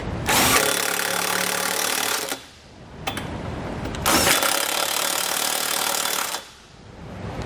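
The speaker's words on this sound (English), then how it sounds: "we're going to come back with our 15mm socket. We're going to tighten the 2 nuts on the top side." A power tool with a 15mm socket drives Curt trailer hitch nuts tight on the frame rail of a 2018 Chevrolet Traverse, two loud sustained whirring bursts close by, each ending abruptly, with quieter gaps between.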